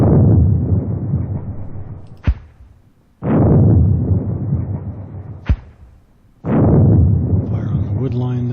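A mortar team fires in a WWII war strategy game set on the Eastern Front, giving three heavy, booming blasts, each with a long rolling decay, and sharp cracks between them, loud and close.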